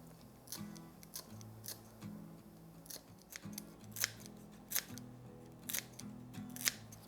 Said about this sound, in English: Next are green onions. And I like to use my scissors.